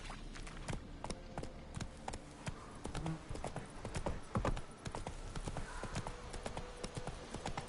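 Roach, the horse in The Witcher 3, galloping with fast rhythmic hoof clip-clops that stay steady and fairly close, no talking over them.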